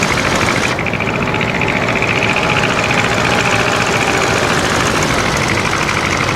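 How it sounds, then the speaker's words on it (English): Aircraft engine heard from behind the plane in the Rise of Flight game, a loud, continuous droning rumble with a steady rough texture, close and unbroken. "as we go behind it, we get more of the engine sound"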